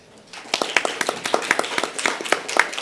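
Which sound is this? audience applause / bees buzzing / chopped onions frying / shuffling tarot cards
audience applause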